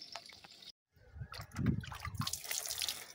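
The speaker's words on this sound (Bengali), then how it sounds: "তো চলো গাছে জলটা দিয়ে নিই।" Water from a bucket poured onto garden plants, a soft splashing and trickling that starts after a brief silence and continues unevenly, fairly quiet and close.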